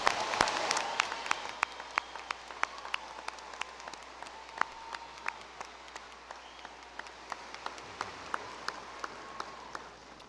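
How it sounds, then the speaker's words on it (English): A commencement crowd applauds honors graduates at the 2018 Hastings College ceremony: sustained distant clapping from a large hall with scattered sharp individual claps, gradually thinning out. "one more round of applause for all of our honors graduates"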